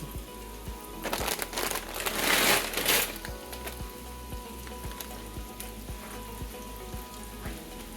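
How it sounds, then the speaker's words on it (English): White egg noodles tumbling into a pot of boiling water, a brief rising rush and crinkle of dry pasta dropping in, then a steady seething bubble with faint regular ticking underneath. "Alright, our water has come to the boil for our pasta. We're going to add our egg noodles now"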